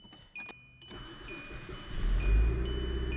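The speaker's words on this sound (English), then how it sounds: "let's get a little cold start on this baby." Straight-piped Subaru STI cold start: faint clicks and a starter crank, then the engine catches and swells into a loud, rough, steady idle that builds toward the end.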